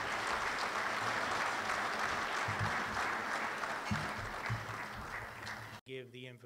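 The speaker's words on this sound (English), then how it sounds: "We have a round of applause one more time for Ryan Bartz." Banquet audience at the National Football Foundation gives a loud, sustained round of applause for Ryan Bartz, dense clapping filling the room before cutting off abruptly as a voice begins speaking.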